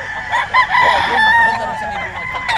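Roosters crow and chickens cluck nearby at a gamefowl farm, several birds overlapping in a busy farmyard chorus.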